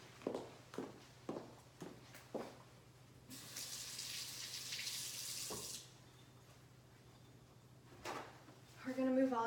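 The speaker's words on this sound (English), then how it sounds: "I'm going to wash my hands now." A tap runs for a couple of seconds during handwashing in an exam room, framed by quiet footsteps and small knocks before and after, with a brief voice near the end.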